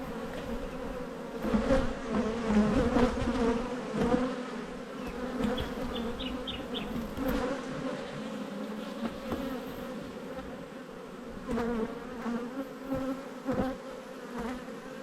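Honey bees hum steadily around an open hive during a spring inspection, a dense, continuous buzz of many insects close by with individual bees droning louder as they pass near.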